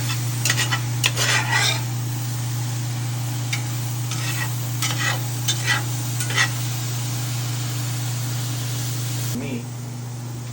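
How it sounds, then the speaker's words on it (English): A pan of food with white wine reducing is stirred, with bursts of utensil scraping against the pan over a steady sizzle and a low constant hum that drops away near the end. "now I'm going to give it a little stir"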